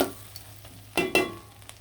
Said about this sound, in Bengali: তেলের মধ্যে কিন্তু কুচি কুচি করা পেঁয়াজ দিয়ে দিলাম